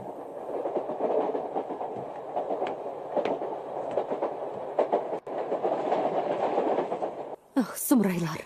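A train runs along the track with a steady rumbling roll and faint rhythmic clicks of the wheels, then a brief sharper tonal sound breaks in near the end.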